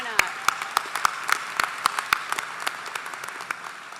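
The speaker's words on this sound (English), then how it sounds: "If we're going to have applause today, we should do it for as many times as we can, right?" Applause at a university winter commencement ceremony: a crowd claps in a steady burst with sharp individual claps standing out near the front, continuing for several seconds before thinning out.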